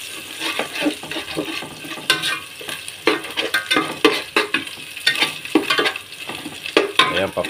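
Garlic and onion sautéing in a pan, an uneven sizzle broken by frequent spatula scrapes and clattering stirs, close and lively, no voices.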